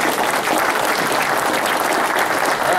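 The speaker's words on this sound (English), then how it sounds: "now we'll take the applause now" Loud, dense applause from an audience at a fire escape awareness seminar, many hands clapping steadily and close for a few seconds.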